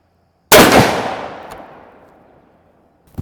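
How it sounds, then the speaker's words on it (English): A single loud, close muzzleloader shot fired with a 250 grain Shockwave bullet booms sharply, then rolls off in a long, fading outdoor echo, followed near the end by a brief faint click. "First shot."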